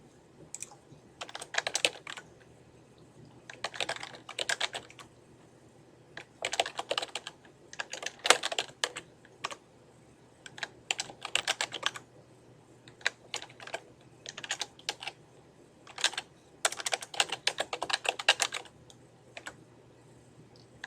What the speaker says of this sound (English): we're going to just type in the information we see here